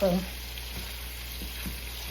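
Pork neck bones browning in a pan, a soft steady sizzle and faint spatter running quietly throughout, with no talking.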